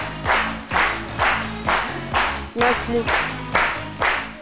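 A studio audience on a French lunchtime talk show claps in a steady rhythmic beat, loud and close, while a voice speaks briefly over it.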